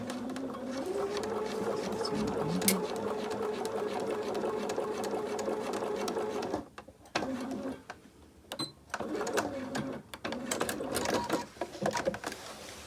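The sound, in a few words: sewing machine edge stitching fabric pocket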